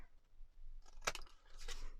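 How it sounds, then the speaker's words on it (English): Big scissors snip through a card in two quick cuts about half a second apart, the first sharper and louder, close up with no talking. "Grab the big scissors."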